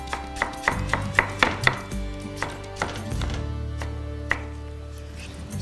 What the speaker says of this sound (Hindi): प्याज डाला है तो तुरंत मैं टमाटर काट के डाल देता हूं ताकि सौगी ना हो कुछ